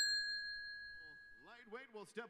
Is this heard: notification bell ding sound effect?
yes